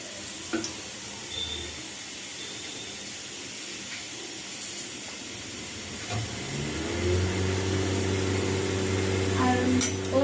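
Mustard oil heating in a pan on a gas stove over a medium flame, a steady close hiss that grows slightly louder, with a low hum rising partway through and speech over it.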